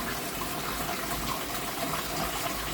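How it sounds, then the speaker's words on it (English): A garden hose left trickling water into a fish tank, giving a steady, even wash of splashing water noise with no pauses. "I've turned the hose off now. I'm just leaving it trickling."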